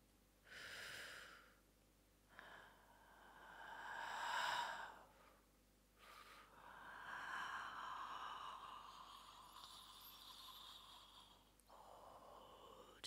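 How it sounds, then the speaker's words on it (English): Soft, subtle breathing drawn in and out through nose and throat: several slow, airy inhales and exhales with sigh-like releases, quiet and close, with no other sound. "I invite you to play with me with the most subtle breathing sounds."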